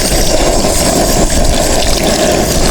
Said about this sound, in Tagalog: At tapos lagyan na po natin ng tubig.